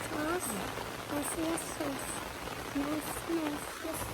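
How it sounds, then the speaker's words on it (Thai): Gentle rain falls outdoors in Canada, heard from under a shelter as an even, soft patter while someone talks over it. "เดี๋ยวฝนกำลังตกนะคะตกแบบ ตกแบบสบายๆนะคะ"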